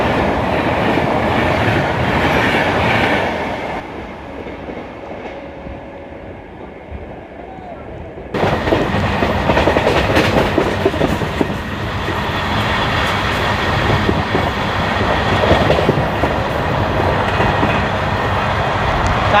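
Kanchanjungha Express passenger train with LHB coaches running on rails from Sealdah toward Sabroom, a loud continuous rumble and rhythmic clatter heard from aboard, dipping briefly quieter before surging back.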